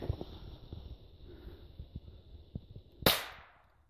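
A single sharp gunshot cracks out at a grouse during an Alaska hunt, its report close and loud before it fades. It follows a stretch of quiet rustling and light taps outdoors.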